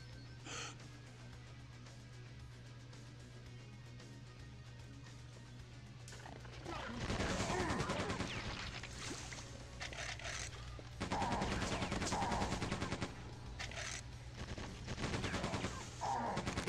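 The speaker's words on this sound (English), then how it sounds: "Back to the machine gun." Rapid machine-gun fire in Quake 2 Remastered: dense bursts of gunfire start after a quieter stretch, loud and close, broken by short pauses, with occasional voice sounds mixed in.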